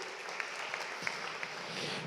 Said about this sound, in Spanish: Dele palmas al Señor fuerte